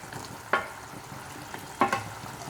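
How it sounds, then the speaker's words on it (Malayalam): Fried prawns are stirred into thick, bubbling pickle gravy with two distinct scraping strokes over a quiet sizzle, close and fairly soft. "ഇനി ഇതിലേക്ക് നമുക്ക് ഫ്രൈ ചെയ്ത് വെച്ച ചെമ്മീൻ ഇട്ട് കൊടുക്കാം"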